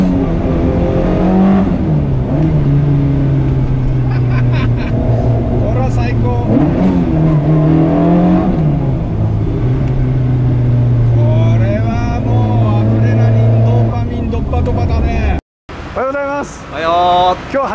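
A Toyota AE86 engine revs steadily through the drive, its tone rising and falling with the throttle, loud and close and nearly continuous, with people talking over it and a brief cut near the end.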